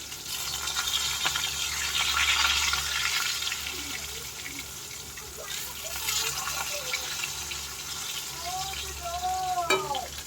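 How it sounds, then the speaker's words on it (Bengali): Fish cooks in a pan on a home stove, a soft continuous sizzle with occasional clinks and scrapes, fairly faint and steady, with a few brief vocal sounds near the end. "আমি আজকে রান্না করছি মাছ"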